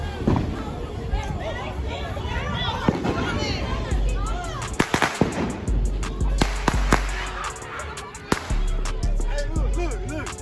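Fireworks crack and pop in a street firework war, coming in rapid irregular bursts with some loud close bangs over constant noise from a crowd. People shout and talk throughout.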